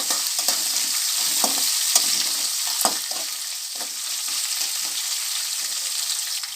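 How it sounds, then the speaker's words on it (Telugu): Green chili pieces frying in hot oil in a pan for poha upma, a steady close sizzle with scattered crackles and spatters throughout, no voices. "ఇప్పుడు పచ్చిమిర్చి ముక్కలు వేసేసుకుందాం ఇలా కొంచెం ఫ్రై అయిన తర్వాత ఉల్లిపాయ ముక్కలు వేసుకోవాలి"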